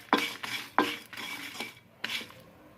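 A utensil scrapes and stirs Chettinad spices dry roasting in a pan, making several sharp, close strokes in an uneven rhythm with short pauses between them.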